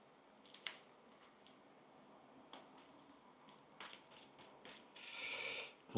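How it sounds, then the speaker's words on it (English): A deck of Lord of the Rings card game cards being shuffled, quiet scattered riffling snaps and soft slides, ending in a longer, fuller burst of riffling, close and faint, with no talk. "So I'll do a good shuffle."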